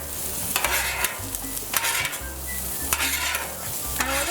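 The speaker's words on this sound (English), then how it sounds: "gonna add some onions and peppers. Start sauteing that up." Onions and peppers sautéing in a pan for breakfast potatoes, a steady sizzle broken by repeated scraping stirs of a utensil every second or so, close and fairly loud, no voices.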